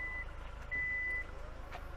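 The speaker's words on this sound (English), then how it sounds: "The huge door shuts closed." Power tailgate of a 2024 Hyundai Santa Fe closing, with two steady electronic warning beeps over a faint low mechanical hum, quiet and close.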